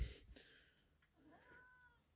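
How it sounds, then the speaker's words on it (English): A cat gives a soft, drawn-out meow toward the end after a few faint rustles, quiet and close in a calm setting. "Oh, there's Kitty Cat."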